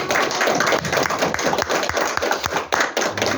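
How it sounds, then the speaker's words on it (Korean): Closing applause from attendees at an academic symposium on calligraphy and literati painting held in a Kyung Hee University auditorium, a close, fairly loud run of rapid claps with some heavier thuds, steady until the end. "우리 모두를 박수 치면서 마무리하겠습니다"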